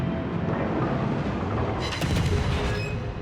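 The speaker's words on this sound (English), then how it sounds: "Giant explosions for tiny little DD guns." Gunfire and explosions from a destroyer, the Huron, in a naval video game, a dense rumbling barrage with a sharp burst of crackling blasts about halfway through, loud and with no voices.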